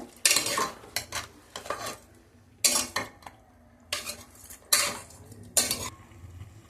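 A metal spoon scrapes and clatters around a pressure cooker pot of chicken with turmeric in short bursts, about six rounds of stirring with brief pauses between, close and clear.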